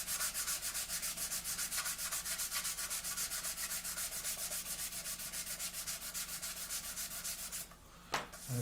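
Sanding sponge rubbed back and forth across a plastic panel of an Italeri 1/48 Seahawk model kit, a steady rapid rasping scrape that continues throughout, up close, then stops briefly near the end before a few final strokes.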